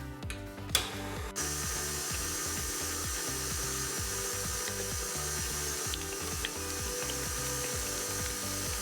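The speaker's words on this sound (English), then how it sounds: "And we'll just let the mixer do all the work." An electric mixer whirs steadily while beating keto cream cheese frosting with vanilla, a continuous rhythmic mechanical whir that starts after a few brief clicks and continues to the end without talk.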